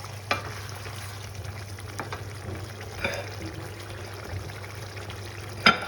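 Madras curry ingredients sizzle steadily in a pan with a dash of sauce added, a close continuous frying hiss with occasional soft stirring clicks and no talk.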